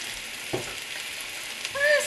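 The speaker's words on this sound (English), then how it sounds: "Give my onions a little stir." Onions sizzle quietly in a frying pan, a soft steady crackle with a brief scrape of stirring and a light clatter near the end.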